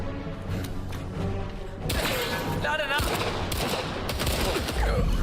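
Gunfire from an Indiana Jones and the Great Circle firefight on hard mode: loud, rapid bursts of automatic shots rattle close by, starting sharply partway through and continuing in clustered volleys, with a voice reacting underneath.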